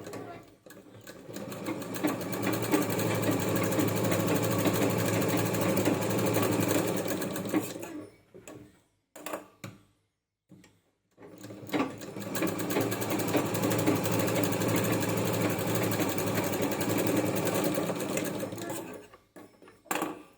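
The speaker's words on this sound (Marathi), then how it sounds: "याच्या दोन्ही बाजूला आपल्याला इथं टीप मारून घ्यायची आहे." Sewing machine stitching a fabric strap for a tulip-design rubber band: two long, steady runs of rapid mechanical whirring and clatter, close and fairly loud, separated by a brief pause with a few short bursts.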